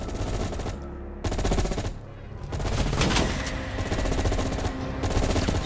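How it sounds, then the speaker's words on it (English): Dense automatic gunfire and overlapping shots fill a firefight in Call of Duty: Black Ops Cold War, loud and continuous across the whole stretch with brief dips between bursts. "कोई आइडिया नहीं कहां से गोलियां पड़ रही हैं हर जगह से पड़ रही हैं"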